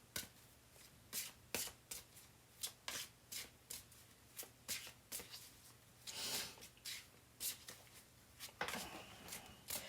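A new tarot deck is riffled and bridged repeatedly by hand. The stiff cards give crisp, rapid bursts of fluttering snaps in a steady rhythm, close and clear, with no talking.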